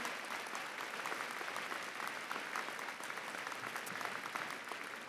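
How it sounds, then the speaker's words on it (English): Sustained audience applause at a university undergraduate commencement, a steady, even wash of many hands clapping throughout, moderately distant with no voices standing out. "Give her a round of applause"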